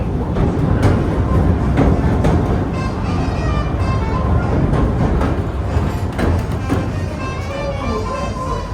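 Disneyland Railroad train rolling into a station, a steady loud rumble with metallic clatter and squeal throughout, continuous and close.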